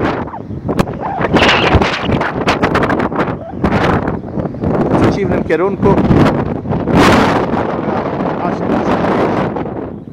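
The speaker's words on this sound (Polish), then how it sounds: "tu przed nami jest największy wiatr w Europie," The strong Millau wind roars over the plateau at Le Caylar, heavy continuous buffeting on the microphone while someone talks over it.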